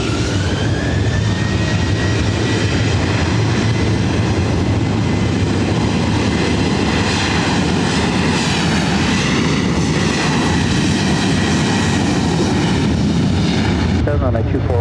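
A Delta airliner takes off from runway 24 right at LAX, its jet engines producing a loud, steady broadband roar that persists unbroken throughout, with a faint rising whine over it.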